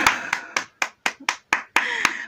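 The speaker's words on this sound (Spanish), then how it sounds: "¡Aplausos para la señora!" A few people clap slowly at a concert fancam event, about nine sharp, separate claps in an uneven rhythm, close and fairly loud, with brief silence between them.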